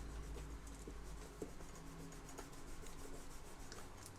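An eraser rubbing out pencil lines from a paper drawing of the Liverpool football club badge, a steady close scratchy rasp that continues without pause.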